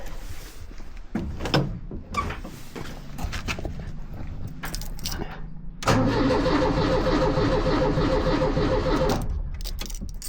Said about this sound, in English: Key in, ignition on, a little bit of gas.